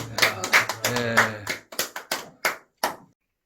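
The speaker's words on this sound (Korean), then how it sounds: "하나님께 우리 감사 박수합시다" A church congregation claps in thanks after a healing testimony, with a voice speaking over the opening before a handful of separate, sharp claps ring out and fade to silence.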